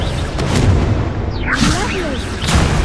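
An Expelliarmus spell is cast in the Hogwarts Legacy video game, a magical burst with a sweeping whoosh at mid-clip over a dense, booming battle rumble.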